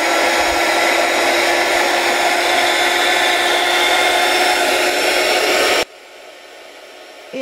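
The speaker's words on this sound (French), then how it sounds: "avec ce qu'on appelle un heat gun, donc un pistolet chauffant" A heat gun melts embossing powder with a loud, steady rushing blow for about six seconds before switching off abruptly, leaving a faint hum.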